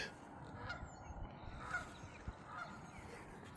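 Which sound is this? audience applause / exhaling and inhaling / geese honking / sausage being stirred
geese honking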